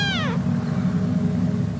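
Kittens in the video game Shelter 2 give a single clear, rising-then-falling meow at the start, over a steady low game background hum that continues after it fades.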